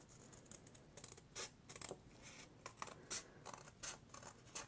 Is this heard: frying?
no